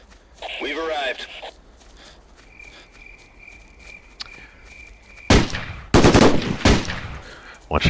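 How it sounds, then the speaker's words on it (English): A voice talks at first over quiet insect-like chirping, then loud bursts of rapid video game gunfire crack in close succession near the end. "I want you to hear the amount of gunfire that's going off here."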